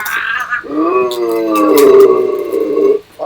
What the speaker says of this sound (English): Is that the dog in the thing?